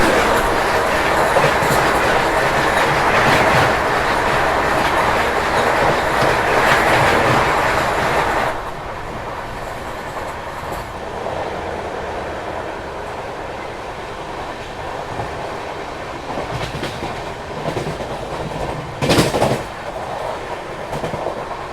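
Bangalore Rajdhani express train running on rails in Telangana, a loud steady rush of wheels and rail noise that drops to a quieter rumble about a third of the way in, with a brief burst later.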